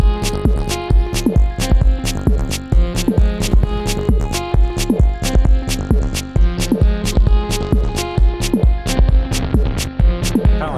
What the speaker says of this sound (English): Like a gritty chiptune bass.